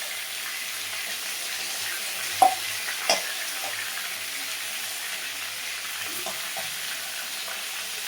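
Pieces of shankar fish (stingray) fry in oil with a steady, even sizzle throughout. A couple of light clinks stand out briefly.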